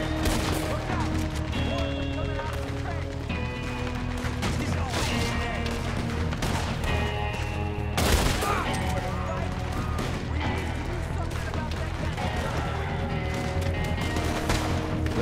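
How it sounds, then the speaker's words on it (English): Rapid Gatling gun fire rattles through a Red Dead Redemption 2 battle, loud and continuous among other gunshots, crashes and dense game music, with a voice talking over the din. "Watch out for that Gatling gun!"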